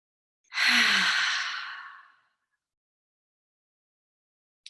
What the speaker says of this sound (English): let's take 3 nice deep breaths together. Breathe in. And again, nice deep breath.